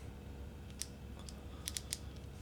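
A fishing reel's drag gives a few sharp, light clicks in quick bursts, close by and fairly quiet, with no talking.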